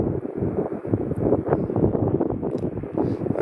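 Gusty wind buffets a microphone outdoors during daytime solar telescope observation, a steady low rumble with rough swells that persists for the whole stretch, with no talking.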